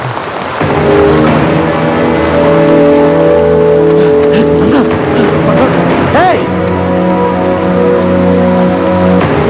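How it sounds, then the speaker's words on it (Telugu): Heavy rain pours steadily in a film scene, a dense hiss that runs throughout beneath loud tonal music and voices. "వర్షం బాగా కురుస్తుంది"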